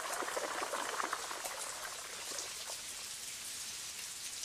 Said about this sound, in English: Spouts on the roofs channel rain into 2 courtyards.